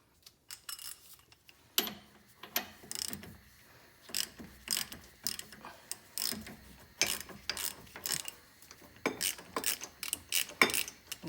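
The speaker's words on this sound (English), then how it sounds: "I'm just loosening the bolt a little bit." Bolt on a Jeep Grand Cherokee WJ tie rod end being loosened with a ratchet, giving quick bursts of clicking pawl sounds and metallic taps, close and moderately quiet.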